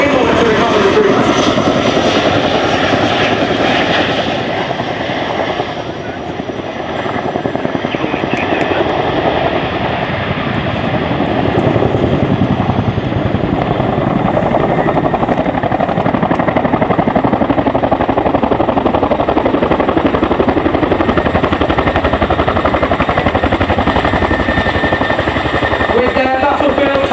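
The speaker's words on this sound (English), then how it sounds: "The Chinook will then be expeditiously manoeuvred forward and down in order to recover the troops." An RAF Chinook HC5 twin-rotor helicopter performing a display manoeuvre at an airshow, its loud continuous rotor thud and turbine roar sustained throughout, with a public-address commentator talking over it.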